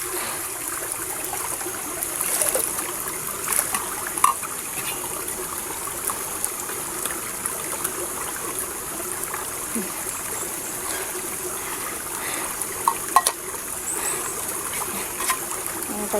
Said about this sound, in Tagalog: Kukuha tayo ng tubig dito sa sapa